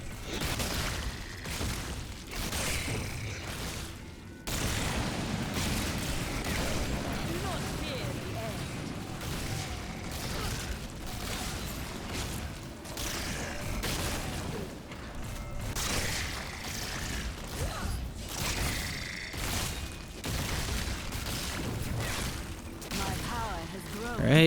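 Corpse Explosion blasts in a Diablo game played as a Necromancer, repeated booming bursts in a steady stream over about twenty-five seconds, mixed with game effects while someone talks throughout.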